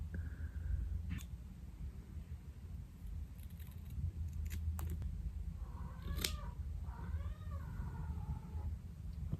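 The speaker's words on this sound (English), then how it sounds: "My cat really wants to be let in right now." A house cat meows to be let in, several short rising-and-falling calls near the end, heard over steady low room hum with a few small clicks.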